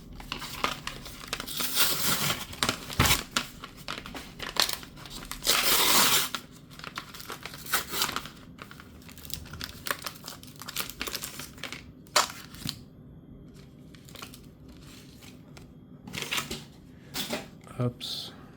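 Foil Pokémon Chaos Ascendant booster packs being torn open, with bursts of crinkling and ripping wrapper and shuffling cards, loud and close, running through the whole stretch between quieter handling.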